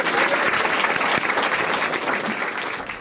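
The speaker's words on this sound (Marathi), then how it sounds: "एकदा टाळ्या वाजवायच्या." Audience at a Marathi stand-up comedy show breaking into sustained applause, dense and even clapping throughout with a faint crowd murmur beneath.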